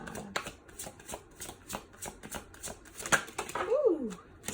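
Tarot cards are shuffled by hand to draw a single card, giving a run of quick riffling clicks and soft flutters, close and moderately loud, with no talking.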